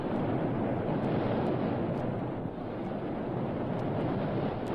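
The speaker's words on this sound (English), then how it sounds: "Listen, that roar. Is it a waterfall?" A waterfall roars steadily and heavily in an audio drama, a dense, unbroken rush of water filling the scene with no voices over it.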